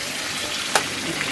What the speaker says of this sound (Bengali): মাছের মাথাকে সেটা ভেজে নিতে হবে ভালো করে